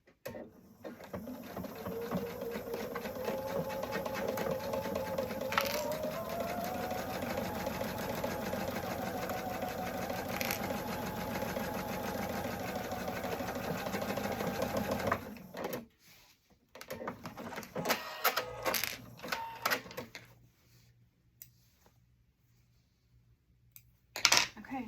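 A sewing machine runs steadily for about fifteen seconds, top stitching a Christmas stocking closed, then stops; some brief handling noises follow, with faint stray sounds and a short knock at the end.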